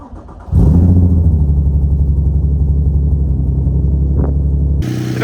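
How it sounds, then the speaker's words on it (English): A Nissan G35 drift car with an exhaust leak cold-starts: a short crank, then the engine fires loudly and settles into a deep, steady, rumbling idle close by, with a brief blip near the end. "I'm gonna give you a nice little cold start and go driving around a little bit"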